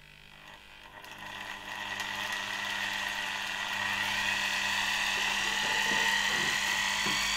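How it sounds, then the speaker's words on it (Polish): ZZSD type 300 vacuum cleaner suction motor run at reduced voltage from a voltage regulator starts turning very slowly, its whine rising gradually in pitch and loudness into a steady high hum. "I nasz silnik zaczyna się już bardzo, bardzo powolutku obracać."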